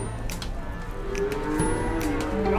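Cattle at the Kunden Wirosari cattle market in Purwodadi: a few drawn-out moos from the animals against a busy outdoor backdrop of murmuring and distant traffic, moderately near.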